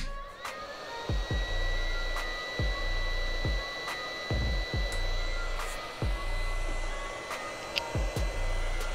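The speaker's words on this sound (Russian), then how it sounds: "Включаю фен." A hot air rework station blows steadily at 300 degrees while soldering a BGA chip over bottom preheating, a continuous airy hiss with a faint tonal whine and repeated sharp low thumps throughout.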